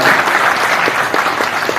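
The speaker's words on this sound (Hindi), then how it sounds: "एक बार जोरदार तालियों अवधेश प्रसाद जी के लिए।" Loud, dense applause from a large crowd at a political gathering, honoring Awadhesh Prasad, steady and close throughout the brief burst.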